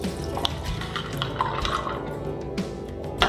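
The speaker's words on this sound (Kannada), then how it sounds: "ಅದಕ್ಕೆ ಒಂದು ಕಪ್ ನೀರು ಮಿಕ್ಸ್ ಮಾಡ್ಕೊಳ್ಳಿ" Water from a cup is poured into a bowl of soapnuts, giving soft splashing and trickling with a few sharper clinks and drips, fairly quiet and close, with no talking.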